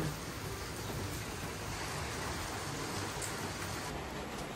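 Steady rain pours down, a dense even hiss of drops hitting surfaces with no break, fairly loud and close throughout.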